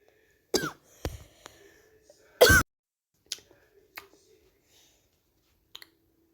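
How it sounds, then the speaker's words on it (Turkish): A person coughs close by in a series of separate bursts, with one hard, loud cough in the middle and quieter coughs and throat-clearing sounds spaced out after it, all in a quiet room without talk. "ben yine öksürüyorum."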